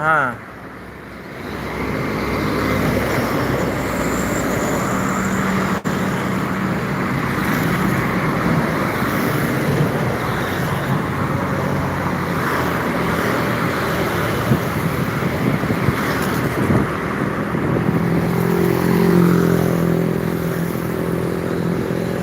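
Trucks and other traffic passing on an Indonesian road, a loud continuous roadway rumble with engines swelling as heavy vehicles go by, a voice talking faintly over it.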